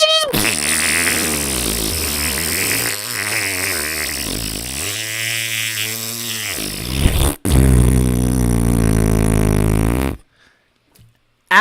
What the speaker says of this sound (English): the fart noises coming from the exhaust